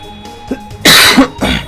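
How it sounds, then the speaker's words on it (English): A person gives a few sharp coughs and throat-clearing sounds, loud and close, in short bursts separated by brief pauses. "Sorry about the coughing still."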